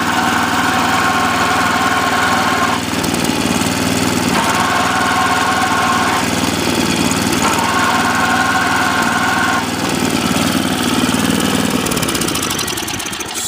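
A small MTD snowblower engine runs steadily nearby with its auger assembly spinning, a loud continuous knocking chug with a buzzing mechanical whine that rises and falls in repeating surges.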